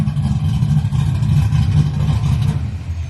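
A Chevrolet Monte Carlo engine breathes through a Flowmaster one-chamber muffler, giving a loud, steady, deep exhaust rumble close by with no voices over it.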